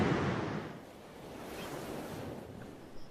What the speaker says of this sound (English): Ocean in view.